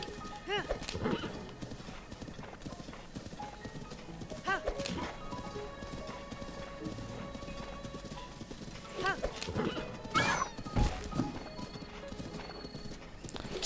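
Horse hooves clip-clopping in the video game Zelda: Breath of the Wild, a steady galloping rhythm with occasional whinnies, running throughout under a voice speaking.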